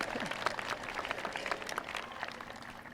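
Audience clapping at a 2018 high school graduation ceremony, a steady dense patter of many hands filling the hall throughout.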